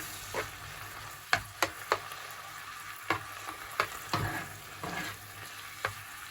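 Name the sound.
stirring food frying in a pan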